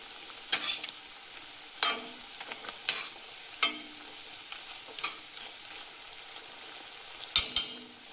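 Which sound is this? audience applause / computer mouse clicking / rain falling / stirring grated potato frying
stirring grated potato frying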